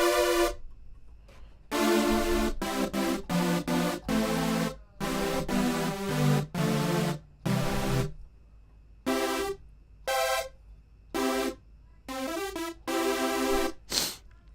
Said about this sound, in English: a good super saw would look like this